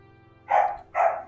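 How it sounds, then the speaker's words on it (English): A dog barks twice in quick succession, loud and close, over a quiet background hum. "and dog barking. sounds like a dog."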